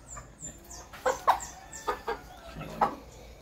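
Sweater Kelso crossed with Golden Boy gamefowl, about 3.5 months old, kept on range, clucking in a string of short, close calls with brief gaps between them, against a quiet yard.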